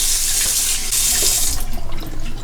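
Cold water runs from a tap to rinse a straight razor, a steady close hiss of flowing water that splashes and breaks up slightly toward the end, with no talk.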